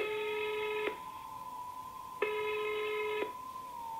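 A number being dialed on a phone to Japan with the 011-81 prefix, heard as steady multi-tone DTMF keypad beeps in two separate presses over a continuous low line tone, clear and close.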